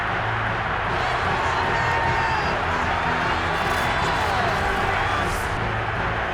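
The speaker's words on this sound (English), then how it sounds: "That just means this crowd's going to get even louder." A roaring stadium crowd in the Madden 22 football video game, a dense and steady wall of cheering and noise that holds at an even, loud level throughout.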